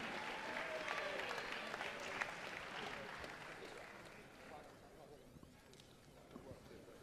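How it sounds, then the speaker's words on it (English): A crowd at a fight event applauds with steady, dense clapping that gradually thins and fades, heard from a distance with a faint hiss underneath. "Could we please get a big round of applause for the excellent fight"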